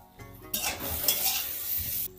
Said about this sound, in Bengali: সব একসাথে ভালো করে নেড়ে নেব।